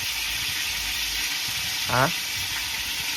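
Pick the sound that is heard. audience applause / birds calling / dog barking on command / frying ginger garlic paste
frying ginger garlic paste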